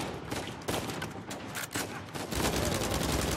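Rapid bursts of weapon fire from the video game Uncharted 4, dense and continuous with sharp repeated cracks, heard alone and moderately loud.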